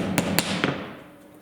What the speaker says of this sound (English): a light tap with a hammer